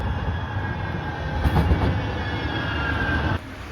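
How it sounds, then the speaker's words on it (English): A Manchester Metrolink tram runs with a steady loud rumble and rail hiss from on board, a faint high squeal riding above, before the noise suddenly drops near the end. "I'm now having to get the tram."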